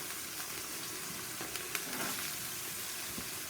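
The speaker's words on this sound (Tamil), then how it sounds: "இப்போ நெக்ஸ்ட்டு பீன்ஸ் போடுறேன். பீன்ஸ் போட்டு கேரட்டு சேர்த்துருவோம்." Green beans and carrots stir-fry in a pan with onions for homemade Chinese egg noodles: a dense, continuous sizzle with scraping stir strokes, close and fairly loud.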